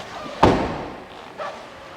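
A rear door of a new Daihatsu Ayla is slammed once, a sharp loud thud that quickly fades, followed by a fainter rattle or knock a second later.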